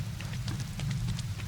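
Rain falling in the Prologue: Go Wayward video game, a steady soft hiss of drops with a low rumbling undertone, continuous and fairly close, with no talk over it.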